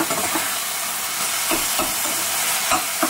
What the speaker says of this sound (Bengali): তো এবার এটাকে ভালো করে ফ্রাই করার পালা।